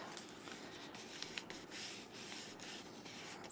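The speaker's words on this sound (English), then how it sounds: "I'll fold it like that." Wallpaper being folded by hand for a junk journal cover, a quiet continuous papery rubbing and crinkling with a few small crisp creases, close and soft, no talking.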